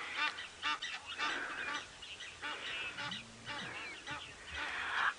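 Geese honk repeatedly in bursts of nasal calls during a standoff with a watching eagle on an African safari, fairly close, with a faint voice briefly underneath.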